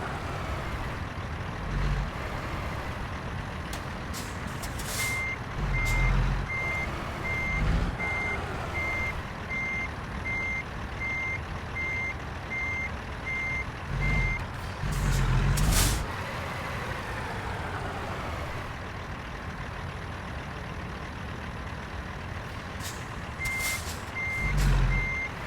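A truck reversing while being parked, its backup alarm beeping in a steady repeated pattern over a low idling engine, with short hisses of air brakes in between and a second burst of beeps near the end.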